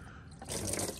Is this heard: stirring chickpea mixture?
no